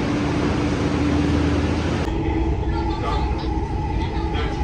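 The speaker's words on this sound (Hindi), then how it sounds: "वो मेट्रो आ गई, मेट्रो आ गई भाई हमारी" Steady loud rumble and hiss of a Delhi Metro train arriving near Rajiv Chowk, with a constant tonal hum and a sudden shift in the noise partway through.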